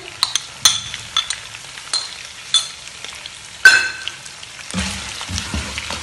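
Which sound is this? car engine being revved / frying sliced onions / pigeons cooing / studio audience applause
frying sliced onions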